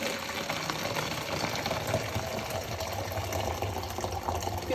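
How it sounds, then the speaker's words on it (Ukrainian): Warm, unboiled water is poured into a homemade weight-loss drink, making a steady, close splashing and filling sound that runs unbroken through the short stretch, with no voices. "Додаємо туди теплу, не кипячену воду."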